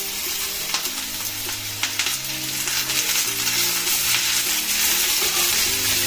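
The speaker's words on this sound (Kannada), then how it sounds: "ನಾವೀಗ ಪಡವಲಕಾಯಿ ಕಟ್ ಮಾಡಿ ಇಟ್ಕೊಂಡಿರೋದನ್ನ ಹಾಕೋಣ." Chopped ridge gourd sizzles in a hot pan as it is stirred, with steady frying crackle, scraping of the spoon, and occasional light clinks, close and without talking.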